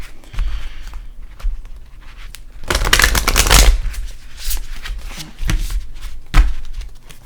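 Playing cards being shuffled during a tarot reading, with a dense riffling burst in the middle and shorter soft card taps before and after, close and clear with no talking.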